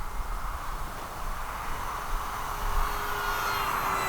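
An Arrows RC P-51 Mustang electric model plane on a 3S battery flies past, a steady whining motor and propeller drone that swells slightly louder toward the end, with wind noise and no talking.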